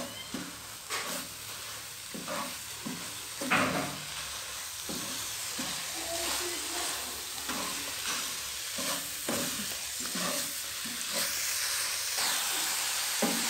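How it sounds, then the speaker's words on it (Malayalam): Coconut laddu mixture stirred in a hot pan, a steady scraping sizzle with repeated spoon strokes, close and moderately loud, no talk. "ഇനി ഇത് നന്നായി ഇളക്കി കൊടുക്കാം"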